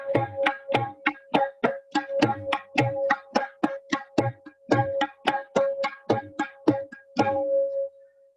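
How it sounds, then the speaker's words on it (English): Tabla playing Rupak tal at double speed, a fast, even run of crisp strokes over a ringing tuned tone that lasts throughout and fades out at the end, heard alone. "So this is how it will sound on tabla."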